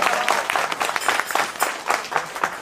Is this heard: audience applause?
yes